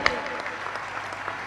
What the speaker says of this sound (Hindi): यमुना जोरदार तालियां बजाइए